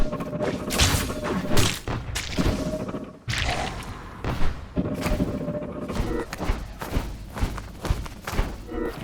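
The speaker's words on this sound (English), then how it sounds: "Gonna hear a cannon already gearing up on us." Heavy booming cannon thuds and crashes repeat irregularly over a busy soundtrack in Legacy of Kain: Ascendance, loud and close, with one brief lull near the middle.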